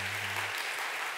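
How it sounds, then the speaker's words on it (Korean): Church congregation clapping during a Sunday worship service, a brief, fairly faint wash of applause after a low tone cuts off. "힘차게 박수"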